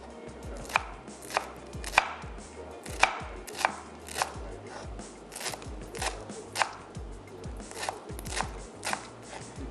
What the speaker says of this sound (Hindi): और इसको दोबारा से हम चॉप कर लेंगे ताकि कैबेज भी साइज़ में थोड़ी सी छोटी हो जाए।